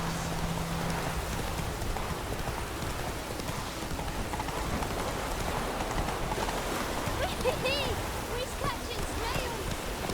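Steady rain falls throughout a scene in the video game The Witcher 3, a dense continuous hiss with faint clip-clop of a horse and a few brief tonal sounds near the end.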